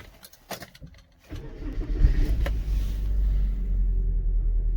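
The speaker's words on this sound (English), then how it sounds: "So let's start the car up." A Rover 25 iXL with 115,000 miles cranks briefly after a few soft clicks, then fires into a low, steady idle rumble that settles and holds, heard close up with no talking.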